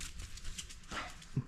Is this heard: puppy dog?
yes